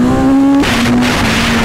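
A powerful motorbike with traction control switched off accelerates hard, a loud revving engine note rising sharply before a gear change drops the pitch and the engine pulls on strongly.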